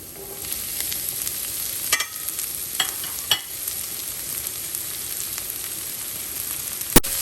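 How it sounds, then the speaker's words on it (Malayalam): Shallots sautéing in a pan for a Kerala-style mutton curry give a steady, close sizzle, broken by a few sharp stirring clatters and scrapes. "ഇതെല്ലാം കൂടെ ഒന്ന് നന്നായിട്ട് നമുക്ക് വാട്ടിയെടുക്കാം."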